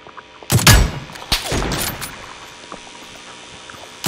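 Gunshots in a video game, two sharp loud bursts close together followed by a fading reverberant tail and faint background hiss.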